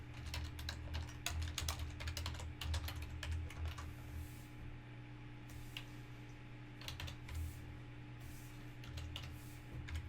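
Computer keyboard typing during volunteer data entry for the 1950 US Census indexing project: a quiet, close run of quick key clicks in irregular bursts with short pauses, over a low steady room hum.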